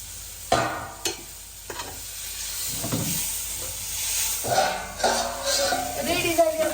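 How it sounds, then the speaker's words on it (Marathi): A vegetable dish sizzling in a pan while being stirred, with sharp spatula knocks at the start, then scraping strokes and rising hissy frying, close up. "एकदा हलविते."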